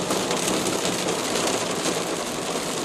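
Heavy rain pours steadily in Doha, Qatar, a dense, even hiss of water falling on surfaces with no breaks, heard from fairly close and alone.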